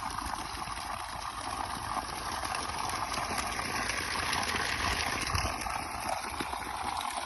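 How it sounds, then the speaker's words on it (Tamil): Water gushing from a 3HP solar borewell motor pump on a 250-foot bore, a loud, steady, unbroken rush of water close by. "மோட்டரோட ப்ரெஷர் பாருங்கள்."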